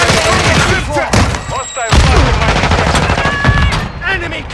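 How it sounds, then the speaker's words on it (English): Rapid bursts of automatic gunfire and scattered single shots from Call of Duty: Modern Warfare II, loud and continuous, with voices shouting in between. "Hostile fire!"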